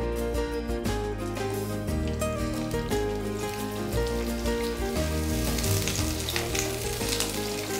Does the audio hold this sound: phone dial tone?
no